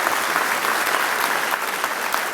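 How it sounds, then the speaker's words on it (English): Crowd applause for state legislators at a governor's appearance, loud and close, a thick continuous roar of many hands clapping with no voices over it. "let's give them a round of applause for a great session"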